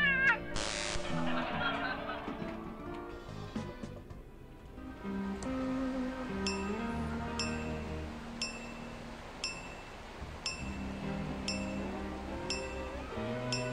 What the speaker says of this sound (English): What is that on the TV? Oh my, it's my favorite. I love my cat.